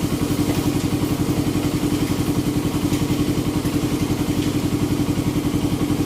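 A Suzuki Raider 150 carbureted motorcycle engine runs steadily at idle, a loud, close, even pulsing putter with a faint mechanical clatter throughout.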